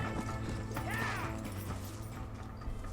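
Horse hooves clip-clop in the Red Dead Redemption video game, a quick rhythmic beat close up, with a brief whinny-like cry near the start over a low game background hum.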